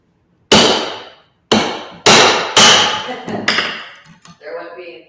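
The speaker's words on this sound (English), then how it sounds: "just basically a wedge that you get in there to separate things" A hammer strikes a wedge to split flat-sawn wood for a table leg, four heavy, ringing blows followed by quicker lighter taps, close and loud, with a voice talking briefly near the end.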